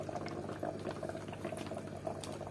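Water in a fish aquarium bubbles continuously, with steady soft gurgling and small popping bubbles, close and fairly quiet, with no voices.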